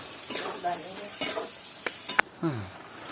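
A spoon stirs and scrapes masala paste (vatan) with chili frying in a pan for a wild mushroom alambi bhaji, giving several separate scraping strokes over a close, steady sizzle.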